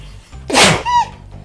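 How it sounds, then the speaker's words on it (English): A single loud sneeze from a person sitting close by while playing a video game, a sharp burst trailing into a brief voiced tail over a quiet background. "And I need to sneeze."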